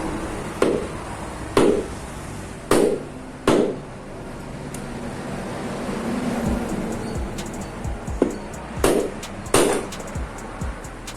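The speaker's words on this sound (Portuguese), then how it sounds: "Vou dar uma pancadinha aqui, que esse aqui é só um fuso." A hammer taps a stuck fan spindle in a handful of sharp, separate knocks, four spaced blows early and a few more near the end, with a quieter stretch of low rumble between them.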